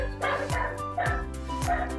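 Six hungry dogs bark and yip in short bursts, roughly three sharp barks over two seconds, close and fairly loud with whimpery overtones.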